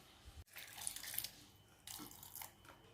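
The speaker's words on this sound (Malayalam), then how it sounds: "ഇനി ഇത് അരയാൻ ആവശ്യമായുള്ള വെള്ളം കൂടി ഒഴിച്ചു കൊടുക്കാം" Water pours steadily into a mixer jar holding soaked urad dal for grinding, a continuous splashing stream that briefly pauses and then resumes.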